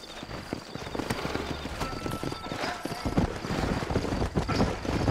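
Horse hooves in the western game Red Dead Redemption clip-clop in a steady walking rhythm, fairly close, with light ambient outdoor noise, a faint tonal whine and a brief snort.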